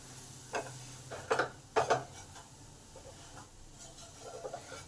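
A hot coconut and milk powder filling is mixed in a pan off the heat, giving a few soft scraping stirs at irregular intervals over a quiet background.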